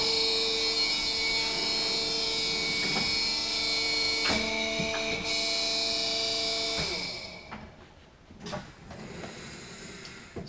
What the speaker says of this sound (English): Let's just start up this small machine here.